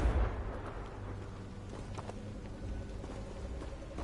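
The Confringo fire spell exploding in the video game Hogwarts Legacy, a dense rumbling blast with crackling debris that sustains at steady loudness throughout, with no speech.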